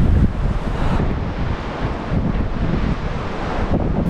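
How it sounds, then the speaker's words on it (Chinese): Strong wind roars on Mount Hua during a winter night climb, a loud, steady broadband rush buffeting the microphone with slow gusting swells throughout. "你听这风声了，我害怕很。"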